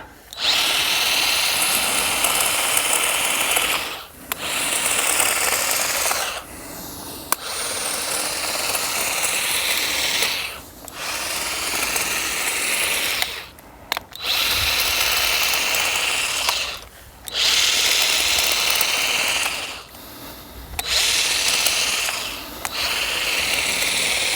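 Cordless grass and hedge shears cutting privet, their motor giving off a loud, close, high mechanical buzz in long bursts of several seconds, each ending in a short pause, with no speech.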